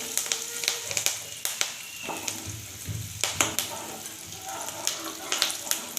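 Turmeric powder and curry leaves sizzling in hot oil for Gadag-style khara churumuri, a steady close crackling fry with sharp pops and stirring clinks throughout.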